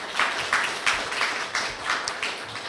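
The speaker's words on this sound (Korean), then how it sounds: "스타트업 대표님들께 큰 박수 부탁드리겠습니다" An audience at a startup investment exchange event in Pangyo claps for the presenting startup CEOs, scattered hand claps at moderate volume that come in uneven, loosely rhythmic bursts for a few seconds.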